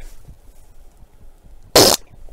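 A single loud, short fart, close to the microphone, breaking out of an otherwise quiet room.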